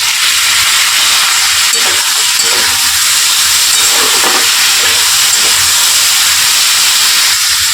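Chopped tomatoes hit a hot pan with green chillies for a vegetarian poppy-seed dish, giving a loud, steady sizzle and hiss that runs unbroken throughout, with faint background sounds beneath.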